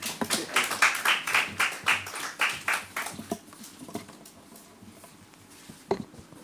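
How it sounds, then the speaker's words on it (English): Applause at a company annual general meeting, with a burst of sharp, closely spaced claps for the first few seconds that quickly thins to scattered claps and then near quiet. "Can give him a clap."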